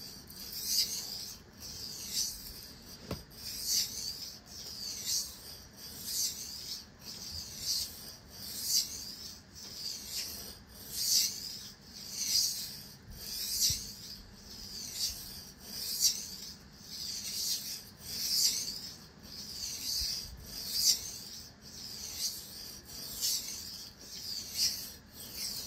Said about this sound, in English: we've actually got a flat edge, the whole flat edge, the whole bevel working against the stone